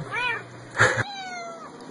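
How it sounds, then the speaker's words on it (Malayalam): A cat meows twice close by, a short rising cry followed by a louder, longer one that trails downward. "പൂച്ച കരയുന്നു"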